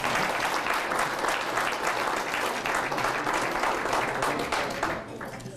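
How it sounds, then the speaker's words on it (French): A room of people applauds during a provincial election candidates' debate in Berthier, dense steady clapping that dies away in the last half second. "Vous avez le droit d'applaudir si vous voulez."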